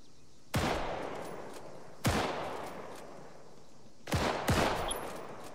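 Four sharp, loud gunshots from the military shooter ARMA 3 crack out: single shots spaced about one and a half seconds apart, then a quick double. Each shot leaves a rolling echo.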